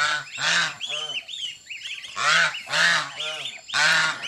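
Bengal geese honk repeatedly and loudly at close range on a rural mountain village farm. The calls come in bursts of harsh, nasal honks with short pauses between them, and no one speaks.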